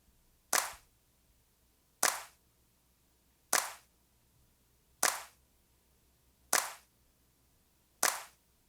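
808 claps run through a compressor in Logic Pro X strike six times at a steady pace of about one and a half seconds, each a crisp, snappy hit with a short tail and quiet gaps between.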